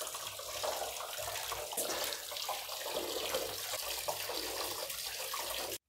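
Warm tap water runs steadily into a sink as sink siphon seals are rinsed clean beneath it, a continuous close splashing hiss for several seconds before stopping abruptly.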